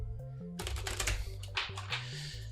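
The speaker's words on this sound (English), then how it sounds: "While I'm shuffling here. These cards." Tarot cards being shuffled by hand during a live reading, a close run of dense riffling bursts and soft slaps in an uneven rhythm over low background music.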